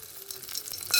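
Cumin and other tempering spices crackle and sizzle in hot oil, a close, steady frying hiss with small pops that swells louder at the end, with no voices.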